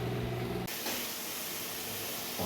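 Spices fry in a hot pan with a loud, continuous hissing sizzle close by, shifting in intensity as the mixture is stirred, with no talking.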